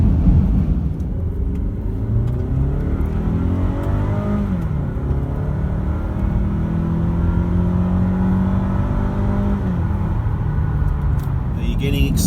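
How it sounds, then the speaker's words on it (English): A 4x4 diesel engine revs up and settles, its pitch rising and falling in a steady loud rumble, heard up close with some talk over it. "Are you getting excited about revving up your engine?"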